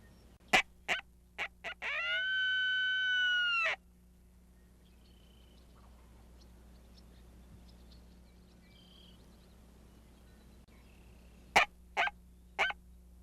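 A wild turkey gobbler answers a coyote howler call with several loud, sharp gobbles close by, following a long sustained howl-like call. A short burst of gobbles comes first, then a quiet gap, and a second burst of gobbles at the end.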